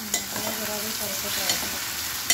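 Dried shrimp with tomatoes sautéing in a pan, a steady close sizzle with a couple of quick stirring clicks.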